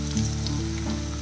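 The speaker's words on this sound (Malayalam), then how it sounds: "നല്ലപോലെ വഴറ്റിയെടുക്കാം." Chopped small onions and curry leaves sautéing in a pan for a roadside-style Kerala chicken perattu, giving a loud, close, steady sizzle for a short stretch with a faint tonal hum beneath.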